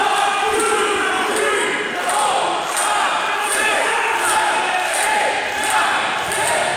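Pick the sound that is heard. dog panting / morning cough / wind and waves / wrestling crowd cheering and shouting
wrestling crowd cheering and shouting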